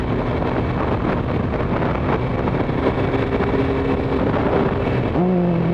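A Suzuki motorcycle engine purrs steadily at about 4,000 RPM in second gear, a continuous close drone mixed with rushing wind noise, its pitch shifting up briefly near the end.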